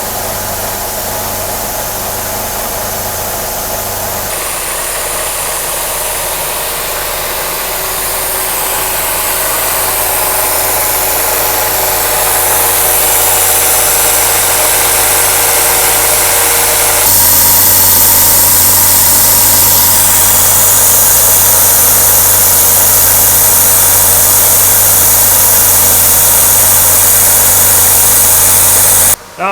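Bridgeport J-head manual milling machine cutting metal in a shop, a steady continuous mechanical whir and hum that holds throughout, growing slightly louder and busier partway through, with no talk over it.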